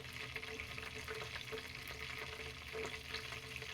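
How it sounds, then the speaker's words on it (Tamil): Whole spices fry in oil for Dindigul-style seeraga samba biryani, a faint, steady sizzle with light crackles and occasional stirring, no voices. "இப்போ இந்த ஸ்பைசஸ்லாம் நல்லா பொரியட்டும்"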